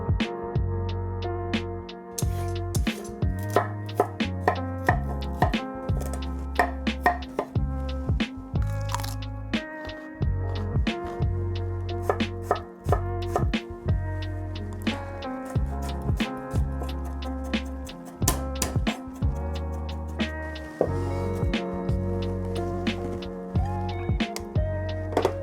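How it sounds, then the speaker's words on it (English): A knife chops carrots, cauliflower and broccoli on a board, giving a run of quick, crisp cuts in an uneven rhythm beneath steady background music. No one speaks. "For my vegetables, I have carrots, cauliflower, broccoli, and some frozen peas. So I'm going to chop all these up."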